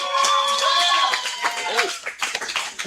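A wrestling event crowd applauding for a wrestler, short bursts of close clapping that fade within a few seconds, with commentators talking over it.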